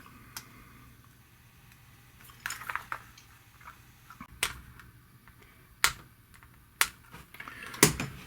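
Rubber keyboard membrane of a Cambridge Z88 computer being flicked into place, heard as sharp, isolated clicks and snaps at irregular intervals over a quiet background, with a brief cluster of softer taps partway through.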